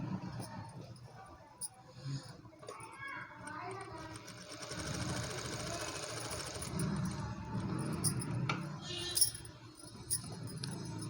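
A sewing machine stitches a baby blouse, a faint, steady mechanical whir and patter that runs in stretches beneath a person talking nearby, with small clicks and taps of handling.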